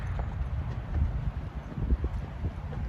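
A Tennessee Walking Horse's hooves at a flat walk, a soft, steady clip-clop beat in a relaxed four-step rhythm over light wind noise, with no talking.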